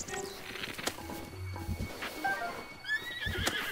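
A horse in Zelda: Breath of the Wild neighs and whinnies amid hoof clip-clops and scattered game effects, moderately faint, with no talking.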